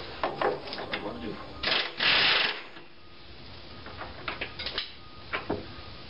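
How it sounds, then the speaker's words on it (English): A ratchet clicks in short bursts while backing a nut off during repair work on a 1980 El Camino, with pauses and a louder scraping rasp in between; close and fairly loud. "Back that nut off."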